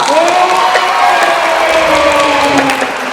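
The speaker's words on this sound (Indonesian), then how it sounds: "Tepuk tangan dong." Children at a Sunday school worship service clap and cheer together, a lively continuous burst of hand claps mixed with excited young voices and shouts throughout.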